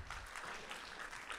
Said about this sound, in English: Can everybody give a round of applause to Julie Condi for putting everything together?